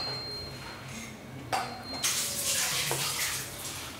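A light clink, then water pours steadily into a pot of curry, a continuous splashing flow close by.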